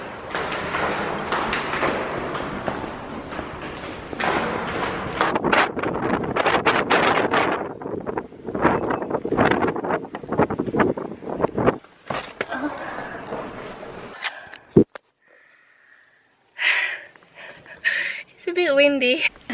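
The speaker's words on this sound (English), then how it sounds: "Windy." Strong gusts buffet the microphone in rough, roaring bursts that come and go, dropping out near the end.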